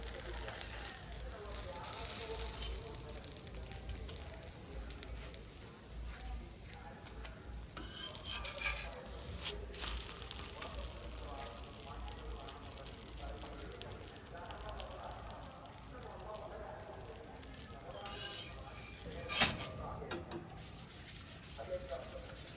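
Palada batter swirls and cooks in a frying pan, giving a long stretch of soft scraping, stirring and utensil clinks with a low sizzling hiss throughout.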